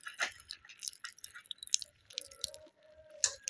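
Popping candy crackles in a mouth as it is chewed close to the microphone, with irregular sharp crackles and pops mixed with wet chewing and squishing sounds, and no talk.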